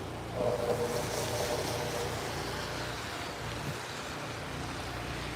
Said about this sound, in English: Here's another guy snow blowing.